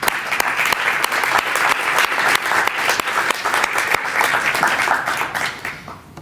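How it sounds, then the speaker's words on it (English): An audience at a West Broad Street announcement gives a big round of applause, steady dense clapping from many hands, loud and sustained before tapering off at the end. "We need to give you a big round of applause."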